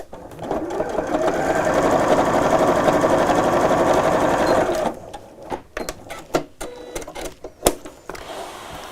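A sewing machine runs steadily for about five seconds stitching a quilted tote, pivoting at a corner with the needle down, then stops into a series of sharp clicks and taps of handling.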